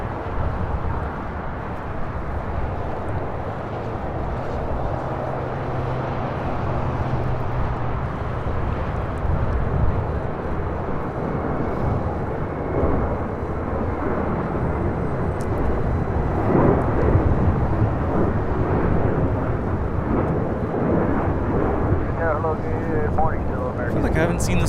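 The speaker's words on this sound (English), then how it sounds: "This is Asiana Airlines 201 Super taking off to Seoul on the A380." An Asiana Airlines Airbus A380 heavy jet taking off from LAX, a distant roar swelling into a loud sustained jet rumble with wind buffeting the microphone, and a voice talking intermittently over it.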